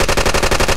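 Rapid automatic gunfire in the Metro video game, a loud, fast burst of evenly spaced shots lasting under a second.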